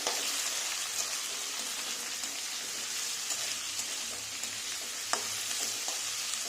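Capsicum and mixed vegetables sizzle and fry in a pan while being stirred, a continuous hissing crackle with occasional sharp scrapes and clicks of the spoon against the pan, close and steady.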